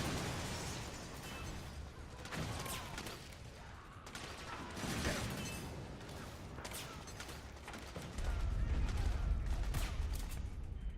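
Continuous loud explosions and gunfire in the video game Metal Gear Solid 4, a dense rumbling battle din with booms, bursts and mechanical clatter, growing heavier toward the end.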